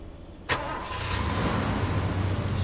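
A vehicle engine in Far Cry 2 turns over with a sharp start, then settles into a steady, loud running rumble that continues to the end.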